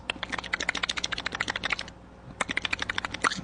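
A voice imitates a weird clicking sound heard at night, producing rapid bursts of close, crisp clicks in two runs separated by a short pause.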